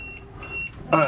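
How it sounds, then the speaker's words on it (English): A sailboat's AIS collision alarm gives short, high electronic beeps in quick succession, with a voice cutting in near the end. "There's the AS alarm beeping at me"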